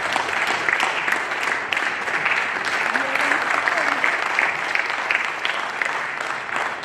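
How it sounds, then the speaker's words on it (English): Sustained applause from guests and members in a provincial legislature sitting, dense even clapping throughout, with voices murmuring underneath. "can they please rise as we give them a round of applause?"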